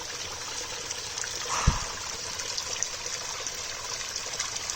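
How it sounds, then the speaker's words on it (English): A trickle of water from a drain pipe beside a mountain stream behind an old Japanese farmhouse, heard as a continuous, fairly soft watery babble with one brief low thump partway through, and no talking. "there's a drain pipe right up here, and it's just got a trickle of water coming out of that"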